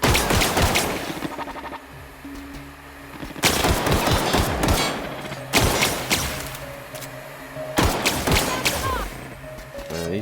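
Rapid bursts of gunfire from bullets in the video game Journey, loud and close, arriving in several clustered volleys separated by brief lulls, with faint talk in the background.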